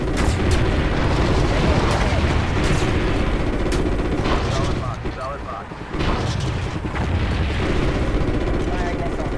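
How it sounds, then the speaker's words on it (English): Missile strikes in Call of Duty: Ghosts pound in a continuous roar of heavy booms and rumbling explosions, dipping briefly before resuming, with radio chatter heard through the barrage. "Firing missiles."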